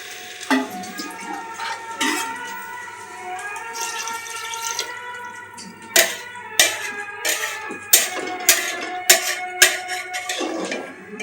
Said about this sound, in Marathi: आता याच्यात आपण पाणी टाकू.